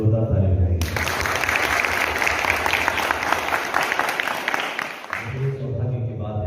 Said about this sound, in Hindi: प्रभु के लिए जोरदार ताली बजाएंगे